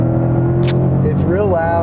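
A 2020 Ford Mustang Shelby GT500 driven on a mountain road, its engine a loud steady drone with a rising rev partway through, heard from inside under a man's speech.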